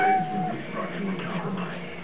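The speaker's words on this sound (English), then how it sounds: "My sketchy, really scared kitty." A cat meows a few times, fairly close and moderately loud, with a faint voice in the background.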